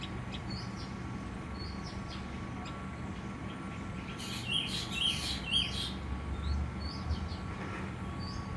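Small birds, pigeons and sparrows, chirp in a rural yard, faint and scattered in the background, with a short cluster of brighter calls midway over a steady low outdoor rumble.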